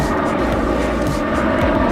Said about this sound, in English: Plane coming in right there.